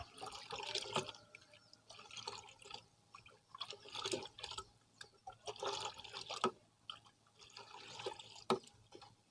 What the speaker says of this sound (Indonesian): Nah, kita aduk seperti ini.